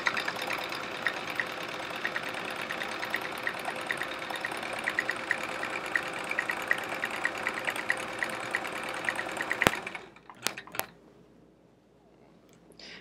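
Domestic sewing machine running steadily during free-motion quilting of squiggles on a chevron quilt, a close, continuous motor whir for about ten seconds that stops abruptly, followed by a few brief clicks and quiet.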